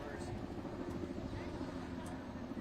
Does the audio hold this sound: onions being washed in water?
no